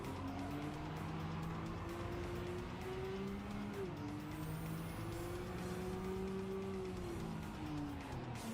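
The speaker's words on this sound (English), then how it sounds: "Trying to dodge a Porsche." Porsche engine in a LEGO driving game, a continuous revving drone that rises and falls with gear shifts, with occasional tire squeal over steady game noise.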